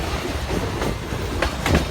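A westbound freight train rolling past close by, loud rumbling with rhythmic clickety-clack wheel beats on the rails through the whole stretch.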